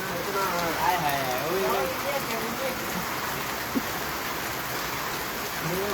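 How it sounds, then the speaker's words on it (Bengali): Heavy sudden rain pours down at a market in Noakhali, a dense steady hiss of drops hitting surfaces nearby, with a voice speaking briefly over it at the start. "প্রচুর বৃষ্টি।"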